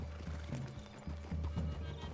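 A horse whinnying in the video game Red Dead Redemption 2, a couple of loud close neighs with hoof clip-clops beneath, alone without talk.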